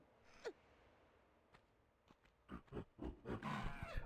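A monkey attacks in the Tomb Raider video game: a sharp shriek comes early, then a quiet stretch, then a dense burst of snarling, scuffling combat noises that build loudly toward the end. No one talks.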